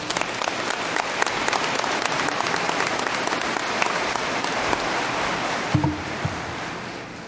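Steady, dense applause from a large crowd at a spring university commencement ceremony, welcoming the speaker to the stage, sustained and even throughout with a brief thump near the end.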